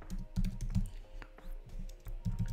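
Someone types a prompt on a computer keyboard, producing a quick, close run of soft key clicks and taps in uneven bursts.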